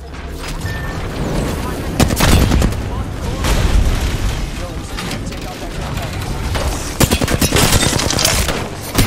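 R99 submachine gun bursts rattle in Apex Legends amid a busy firefight, with rapid volleys, booms and impacts coming in repeated waves, loud and close, as a player talks over the action.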